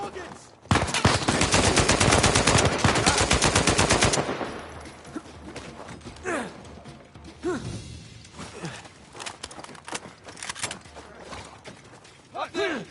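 Dense automatic gunfire blasts without pause for several seconds during a firefight in the video game Uncharted 4, then gives way to scattered single shots, scuffling and grunts.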